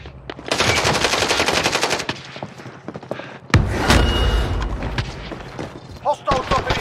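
Sustained automatic machine gun fire in the Warzone battle royale shooter, rapid loud bursts with heavier booming shots partway through, chattering on under game callouts.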